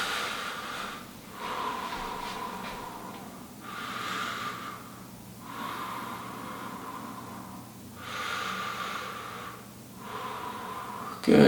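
Slow, deep breaths during a seated fascia release exercise, each long airy inhale and exhale rising and falling in a steady cycle over several breaths, close and clear with no talking.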